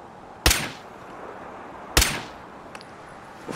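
Two loud, sharp video game gunshots ring out about a second and a half apart, each with a short fading tail, followed by fainter clinks and a softer report near the end.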